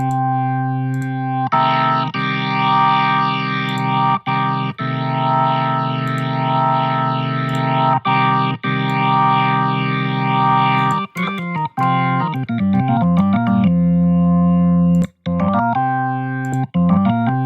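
A classic rock organ patch played through a ToneStack amp and Bohr 4x12 cabinet rings out loud and distorted, with sustained chords and chorus swirl, then quicker broken phrases near the end.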